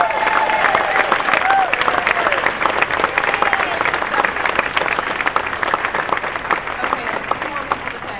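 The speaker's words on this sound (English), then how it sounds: "So let's give all of these folks a big round of applause." Audience in a historic theater applauding and cheering at an open house, a loud, dense, steady wash of clapping with crowd voices and whoops running throughout.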